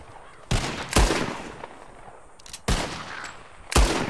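Gunfire aimed at birds in Red Dead Redemption 2: four sharp, loud rifle shots in two pairs, each with a short decaying echo, over quiet outdoor ambience with no talking.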